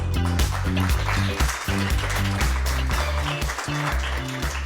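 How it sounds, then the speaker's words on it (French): Applause from an audience at a solidarity mobility awards launch, partly masked by loud music with a pulsing bass line. "Le temps qu'elle nous rejoigne, nous pouvons l'applaudir."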